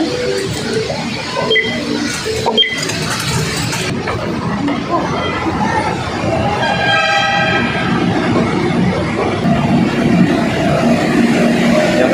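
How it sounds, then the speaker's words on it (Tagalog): Rumble and clatter of a rail transit train on an MRT line with a horn sounding, heard from onboard while people talk throughout. "Sakay na kami MRT."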